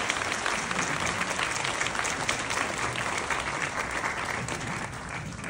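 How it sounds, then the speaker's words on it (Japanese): A large crowd at a Japanese political campaign rally gives sustained, loud applause to welcome a speaker, a dense unbroken burst of clapping that holds steady throughout. "どうぞ盛大な拍手でお迎えをください。"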